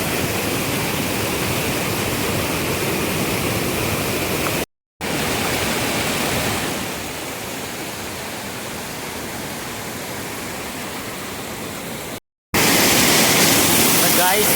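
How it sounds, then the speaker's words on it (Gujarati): Loud, continuous rush of fast-flowing river water, a steady roar that dips briefly twice and swells again, with no voices heard. "એટલું ફાસ્ટ પાણી જતું છે"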